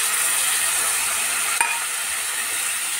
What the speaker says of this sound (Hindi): टमाटर लहसुन को भी अच्छे से फ्राई होने दूंगी